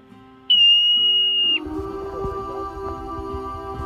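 A marmot on a snowy mountain trail at about 8,000 feet on Pyramid Peak gives one sharp, sustained high-pitched whistle lasting about a second. Quieter outdoor rustling and breezy noise follow.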